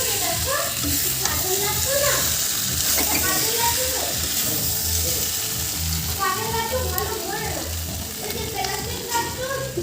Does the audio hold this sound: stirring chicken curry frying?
yes